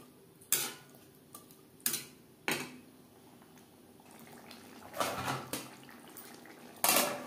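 Chickpeas are stirred with spices in a pan over medium flame, a spatula scraping and knocking against the metal in several separate bursts, close and fairly loud with no talk.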